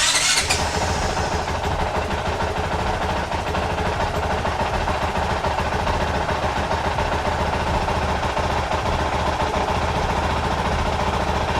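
A Honda CRF450RL dirt bike's stock exhaust runs steadily and loudly at a constant idle-like drone, with a brief sharper burst at the very start and no voices.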